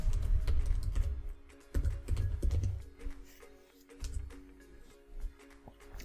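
A password typed on a computer keyboard, scattered soft key taps over a low hum, faint and close.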